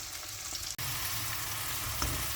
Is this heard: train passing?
no